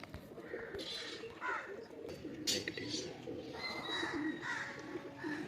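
Pigeons coo softly in a loft of birds kept for sale, low repeated coos and some faint chirps mixing with a voice talking nearby, moderately close and fairly quiet.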